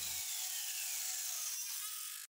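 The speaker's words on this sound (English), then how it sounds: "Bauer rotary tool." A Bauer rotary tool cutting through a metal bolt, a continuous high-pitched grinding whine held steadily for about two seconds before cutting off abruptly, with no voices.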